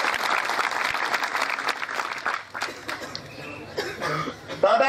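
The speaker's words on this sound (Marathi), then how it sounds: "एकदा जोरदार टाळ्या वाजवून आपण त्यांचं स्वागत या ठिकाणी करायला पाहिजे." An audience at a public water-worship ceremony in Majalgaon claps loudly to welcome a guest, with steady applause that gradually thins, plus a few coughs and murmurs from the crowd.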